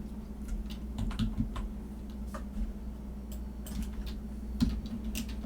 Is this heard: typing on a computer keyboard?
yes